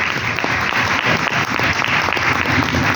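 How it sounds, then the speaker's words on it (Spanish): Audience applause at a lecture on Argentine economic policy, dense continuous clapping from a crowd held at a steady level for a few seconds. "Me tienen que aplaudir cuando digo muchas gracias."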